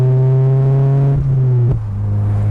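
A 1992 Mazda Miata's Manzo catback exhaust drones low and loud up close, holding a steady rumble before the engine note dips slightly.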